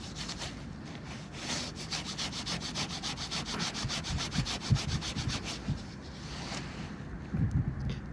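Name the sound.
rubbing a dug-up piece of dark smelt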